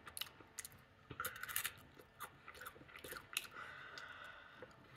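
A crunchy cube-shaped Kinder Bueno wafer chocolate being bitten and chewed up close, a run of irregular crisp crunches that fade into softer chewing; quiet otherwise, nobody speaking.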